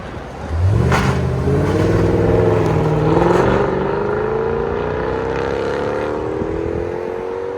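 A Mercedes CLS 550 V8 with an AMG-style exhaust note revs hard, pitch climbing steadily through a strong, close, clean engine roar that holds to the end.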